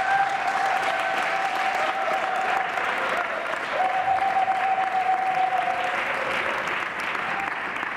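An audience at a social justice think tank keynote gives a round of applause for two speakers, steady dense clapping throughout with a faint tonal hum running underneath.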